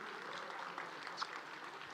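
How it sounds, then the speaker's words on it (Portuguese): Applause from an audience at a talk by Pablo Marçal, a soft and fairly distant patter of clapping that continues steadily throughout. "uma salva de palmas para você que ficou até agora"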